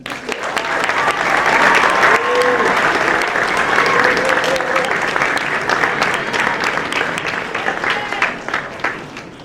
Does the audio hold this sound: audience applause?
yes